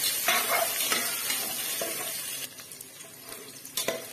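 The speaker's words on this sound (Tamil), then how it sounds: "வெங்காயம் பாருங்கள் நல்லா வதங்கிருச்சு" Onions sautéing in a pan with rock salt and dried red chillies, a loud continuous sizzle close up, broken by repeated scraping strokes of a spoon stirring against the pan.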